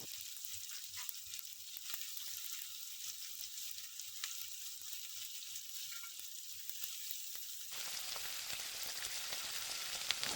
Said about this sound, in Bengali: এগুলো আমরা ভালো করে ভেজে নেব।